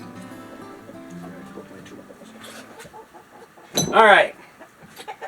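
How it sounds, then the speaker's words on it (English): A single loud burst of chicken clucking close by, over a quiet background of faint talk and clatter. "I'm being invaded by chickens."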